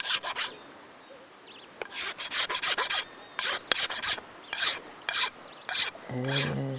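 A rapé craftsman works a wooden piece with a hand file, making rhythmic rasping strokes, close and steady, in bursts of back-and-forth scraping with brief pauses between.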